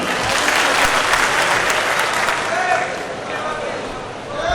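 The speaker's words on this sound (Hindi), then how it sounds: "उसके लिए अगर पुरजोर आप तालियां बजा दें।" A large audience at a political rally bursts into loud, dense applause that holds strong before easing slightly near the end, with some crowd voices mixed in.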